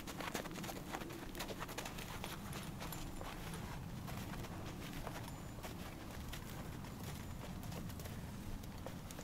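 A horse's hooves clip-clop in a steady walking rhythm, faint and somewhat distant against a quiet outdoor background with occasional birds.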